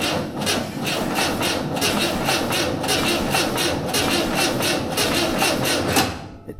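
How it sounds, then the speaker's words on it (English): A Volkswagen Beetle ute engine cranks over on the starter, a loud, rapid rhythmic chugging that holds steady for several seconds before cutting off abruptly. "So in theory, I should press this and it should crank."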